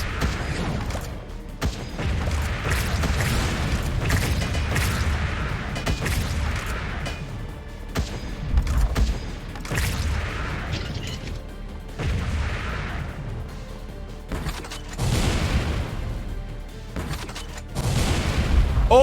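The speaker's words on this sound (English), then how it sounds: "time for bombs" Repeated booming explosions of bombs in the video game Wall World, heavy blasts arriving every couple of seconds in a loud, rumbling sequence.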